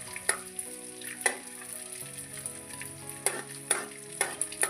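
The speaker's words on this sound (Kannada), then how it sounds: "ಹಿಂಗೆ ಸ್ವಲ್ಪ ಹಾಕಿ ಕರ್ಕೊಳ್ಳೋಣ" Edible gum frying in a pan for North Karnataka-style gum laddoos gives a continuous sizzle, punctuated by sharp metallic taps and scrapes of stirring at irregular intervals.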